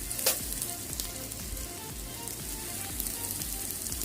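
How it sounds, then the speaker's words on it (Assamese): Onions frying in a pan for a bottle gourd leaf curry give a steady, moderate sizzle and crackle throughout, with one short sharp click near the start and no voices. "পিঁয়াজখিনি এতিয়া ভজা হৈ গ'ল।"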